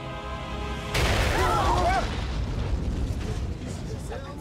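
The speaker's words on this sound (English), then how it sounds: "Okay, this is bad. The explosion is starting." A reactor explodes in Marvel's Spider-Man: Miles Morales, opening with a sudden loud boom that swells into a sustained, rumbling roar under faint game sounds.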